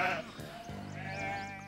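Sheep bleat in a short burst of wavering calls, close and fairly quiet, with no talking over them.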